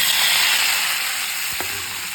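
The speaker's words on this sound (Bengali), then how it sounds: "তারপরে ভেজে রাখা সবজিটা দিয়ে দেব" Fried vegetables hit hot oil flavored with radhuni in a pan, giving a continuous loud, close sizzle with a brief metallic clack near the end.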